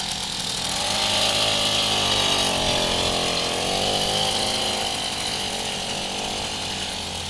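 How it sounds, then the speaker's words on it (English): Imme R100 post-war two-stroke motorcycle engine runs steadily, a continuous buzzing drone with a slight rise and fall in pitch, moderately loud and close, with no voices. "the sound of the two-stroke engine, which is similar to the buzzing of a bee"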